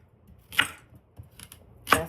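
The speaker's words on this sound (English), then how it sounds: "I am going to have to cut them up to go in the blender." A kitchen knife cuts carrots into smaller pieces for a blender: two sharp chops land on a board about a second and a half apart, with faint taps between them and no talking.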